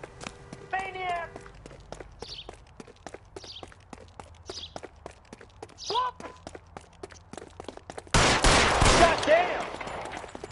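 Gunfire in the detective game L.A. Noire: a chase of fast, regular footsteps under shouted voices gives way to a loud, sharp blast of shots near the end.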